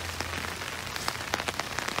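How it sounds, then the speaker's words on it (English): Steady rain falls outdoors on a long, narrow pasture field, a soft continuous hiss of white noise with scattered faint droplet taps, quiet and close. "which is so quiet and nice outside of the rain, which is kind of just a nice white noise in the background"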